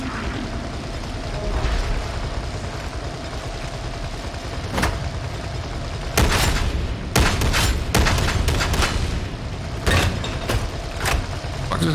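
Gunfire in Warhammer 40,000: Darktide, a few sharp shots cracking out over a constant low rumble of combat noise, with bursts clustering in the second half.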